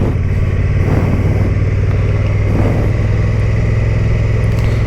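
A Honda motorcycle engine runs with a steady, loud low rumble heard up close, holding an even note without any clear revving.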